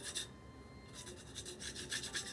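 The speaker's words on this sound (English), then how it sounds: "when you're done sanding it down to the look you like" Sandpaper rasps against the raised edges of a painted glass mason jar in repeated short strokes, a dry scratchy rubbing that comes in bursts with brief pauses between, close and fairly quiet.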